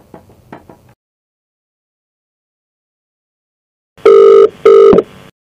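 A telephone rings as a call is placed on a Telugu comedy show. Two loud electronic ring bursts follow a brief faint tapping and a long silence.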